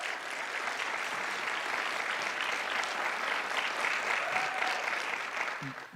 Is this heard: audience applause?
yes